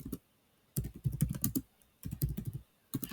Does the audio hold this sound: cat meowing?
no